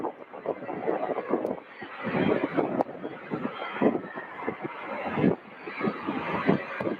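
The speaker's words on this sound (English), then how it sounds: "Two 747s taxiing back to back." Two Boeing 747s taxi back to back at Louisville airport, giving a rough, rumbling engine roar that surges and fades in uneven waves, fairly close, with no talk over it.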